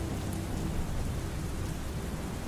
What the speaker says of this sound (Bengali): যখন মুষলধারায় বৃষ্টি নামল,